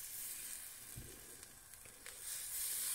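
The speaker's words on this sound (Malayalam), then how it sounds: "അപ്പോൾ അതിലേക്ക് ഞാൻ പ്രോൺസിനെ വെക്കുകയാണ്." Butter-coated prawns laid on a hot pan without oil, giving a soft, steady sizzle with a few faint contact taps, quiet and alone.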